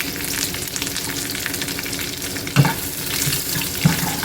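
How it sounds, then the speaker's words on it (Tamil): Mustard seeds, cumin seeds and a couple of dried chillies frying in hot oil for okra sambar, a steady close crackle with a few sharp pops, no one speaking. "நல்லா பொரிஞ்ச அப்புறமா போடணும் கடுகு சீரகமாக ஒரு ரெண்டு மிளகா போட்டுக்கிறேன்"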